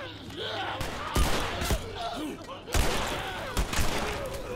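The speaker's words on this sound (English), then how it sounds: "There's other people shooting." Gunfire from other people shooting in The Last of Us: several sharp, loud bursts of shots in uneven clusters, some near and some farther off, with other sounds and voices between them.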